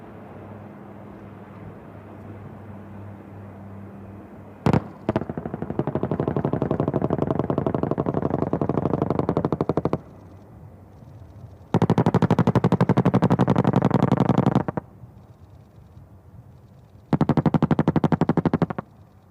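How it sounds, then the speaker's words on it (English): Blasts and rapid gunfire from an ALH Rudra attack helicopter striking a ground target during an Indian Air Force firepower exercise at Pokhran: a sharp crack, then long loud bursts of roaring fire in three separate waves over steady background rumble. "The explosion has smashed the enemy's vital assets."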